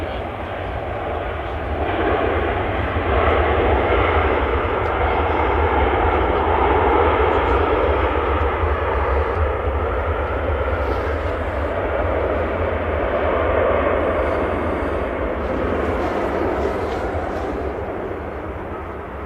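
Airliner landing at Manchester Airport, a sustained broad engine roar that swells and eases slowly, heard from a distance with a voice talking over it.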